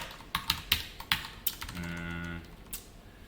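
Keystrokes on a computer keyboard while typing JavaScript code, a quick burst of about eight sharp, close clicks followed by a short steady hum and one last tap, with no talking.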